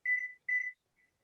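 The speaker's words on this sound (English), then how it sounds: "I'm going to set the timer for 15 minutes." A kitchen timer being set for 15 minutes during a cooking session gives two clear electronic beeps in quick succession, followed by a very faint short third tone.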